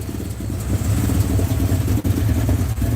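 A Jaguar car engine idles smoothly and steadily close by, a low, even rumble with a light mechanical clatter and no voices.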